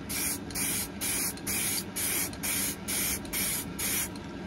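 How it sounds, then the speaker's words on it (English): White plastic primer sprayed from an aerosol can in about eight even, close hissing bursts separated by short pauses, with no voices. "just spray across the entire piece"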